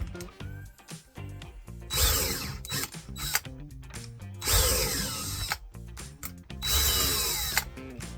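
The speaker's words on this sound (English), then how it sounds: "A couple pilot holes." Power drill boring pilot holes in a leather stitching pony: three loud whirring bursts with ratcheting, gear-like clatter, separated by quieter handling noises.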